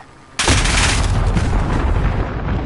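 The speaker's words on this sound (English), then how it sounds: "Enemy cruise missile incoming." Cruise missile explosion in a Call of Duty multiplayer match, a sudden loud boom followed by a sustained roaring rumble and crackle that slowly tapers.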